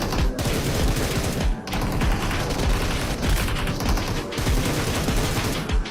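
Dense automatic gunfire in PUBG Mobile, rapid bursts of loud shots rattling almost nonstop with a few brief gaps between volleys.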